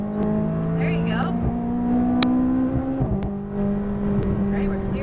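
A McLaren 570S accelerates at full throttle on a race track, its engine holding a loud, steady droning whine that shifts pitch partway through, with an instructor talking over it.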